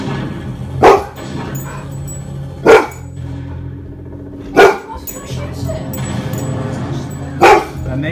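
A golden retriever barks in four sharp, separate bursts spaced a couple of seconds apart at a film, The Thing, whose soundtrack and dialogue run underneath.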